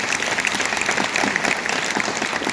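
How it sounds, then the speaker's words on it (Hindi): A large audience at a celebratory awards show gives loud, sustained applause for the achievers, a thick, continuous wash of many hands clapping at once, close and even throughout. "एक बार जोरदार तालियां इन सारे अचीवर्स के लिए।"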